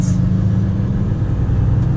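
The engine of a Volvo FM 460 truck hauling a trailer through snowy conditions runs as a steady low rumble heard from the cab, continuous and fairly loud.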